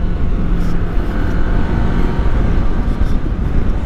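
A Kawasaki motorcycle engine revs steadily in second gear, a loud, dense, continuous drone heard close from the rider's position with wind noise.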